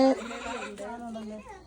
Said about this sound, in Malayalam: ആടുണ്ട്.